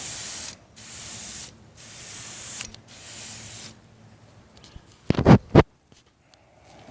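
Spray paint hisses in three steady bursts of about a second each onto the fuselage of a 1/4 scale Piper Cub model outdoors, followed by a brief rattling clatter and quiet.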